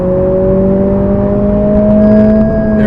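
A 2020 Honda Civic Si engine revving past 6,000 RPM in third gear, a loud steady high-rpm drone rising slowly in pitch, heard from inside the car.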